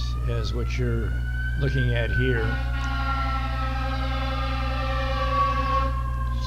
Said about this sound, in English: that's a fire truck coming by.